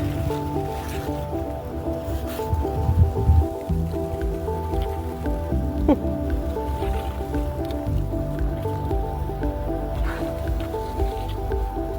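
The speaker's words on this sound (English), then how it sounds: "Time to get this big zucchini out of here" A large zucchini is pulled and snapped from a garden plant in a Massachusetts vegetable bed in early fall, giving soft squishy tearing and rustling of leaves and stems, with a burst of handling noise early on, close and moderately loud.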